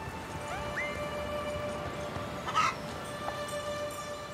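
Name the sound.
chickens clucking in the video game Unicorn Overlord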